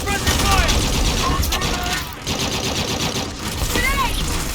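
Suppressing gunfire in a video game: dense, continuous volleys of automatic fire and bursts, loud and close throughout, with voices calling out over the shooting.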